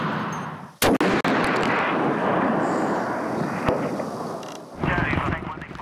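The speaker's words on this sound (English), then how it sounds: "immediately try to suppress them with heavy machine guns and sniper fire" Gunfire during military commando training: a few sharp, loud close shots in quick succession, then a long sustained roar of distant heavy fire and rumble continuing underneath to the end.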